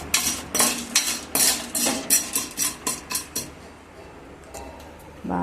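Popcorn ingredients being mixed in a pan: a spoon scrapes and clinks against the metal in a quick, regular series of strokes that slow and fade toward the end.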